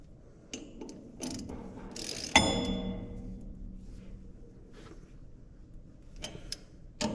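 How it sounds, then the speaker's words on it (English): A ratchet clicks while turning a square head set screw on the hopper floor of a Gleaner R72 combine, with a burst of quick pawl clicks, a sharp clank, then scattered single clicks, close and alone. "you can put them onto a square head set screw and use a ratchet"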